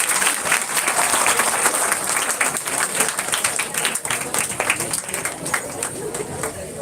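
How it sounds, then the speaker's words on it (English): An audience at a student research conference applauds the school principal, dense, loud clapping from many hands with some crowd murmur mixed in, sustained throughout. "please a round of applause for our principal ma'am."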